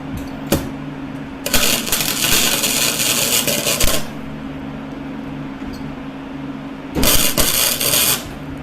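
Flux core MIG welding on a pipe at low voltage, two long loud crackling buzzes of the arc separated by quieter pauses with a few sharp clicks, close and harsh.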